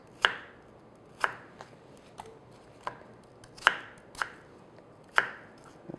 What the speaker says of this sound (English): I just cut down on either side of your core, across the bottom, and you want them, like, I would say diced